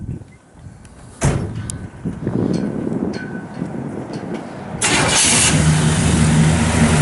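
A 1965 Chevrolet Impala SS's 327 V8 engine cranks and catches, then settles into a steady, loud idle after a clunk, with a rougher surge of noise partway through.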